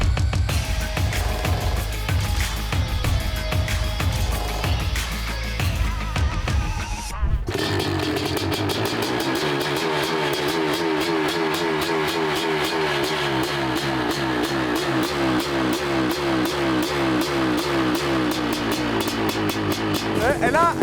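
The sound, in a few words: BMW M4 engine running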